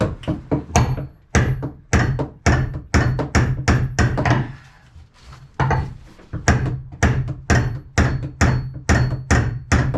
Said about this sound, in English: there's an elbow that I can hit with the hammer